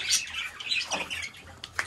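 Caged parrots squawking and chirping in a lower cage crowded with birds, bright calls scattered throughout, with a voice speaking briefly near the start.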